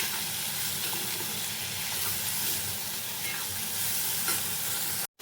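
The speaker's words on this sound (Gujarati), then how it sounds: "ત્યાં સુધી આપણે સાતળવા દેવાનું છે તેલમાં જ." Chopped tomatoes sauté in hot oil in a pan with peanuts and green chilies for a fasting-day potato dish, giving a steady, close, continuous sizzle that cuts out abruptly just before the end.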